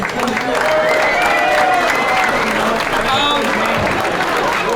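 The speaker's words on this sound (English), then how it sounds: "big round of applause for Josh." Audience applause at a high school hall of fame ceremony, dense steady clapping with some cheering and voices mixed in, filling the whole stretch at close range.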